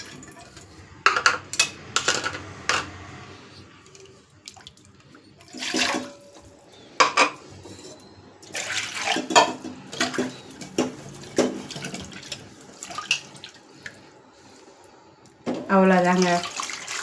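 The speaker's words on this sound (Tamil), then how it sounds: "இப்போ கொஞ்சம் தேவையான அளவு தண்ணியை ஊற்றி நம்ம அந்த மிக்ஸி தேங்காய் அரைச்சோம்ல அதை அலசி ஊற்றிடலாம்" Water is poured into a mixer jar to rinse out ground coconut, giving intermittent splashing and pouring over several seconds with a voice talking throughout and a brief clatter near the end.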